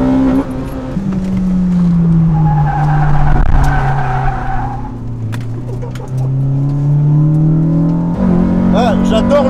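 A 2023 Honda Civic Type R slides, its tires squealing and skidding loudly and close over a droning engine that rises and falls. A voice is briefly heard.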